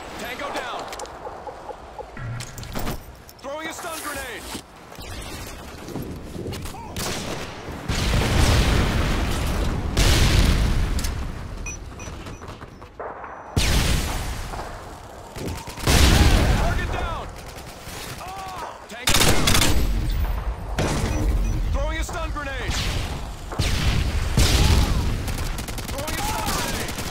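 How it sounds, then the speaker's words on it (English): Stun grenades and gunfire in Call of Duty Modern Warfare 2 (2009) multiplayer, with loud bangs, bursts of automatic fire and sharp pops repeating throughout, and in-game voices calling out between the shots. "Throwing a stun grenade!"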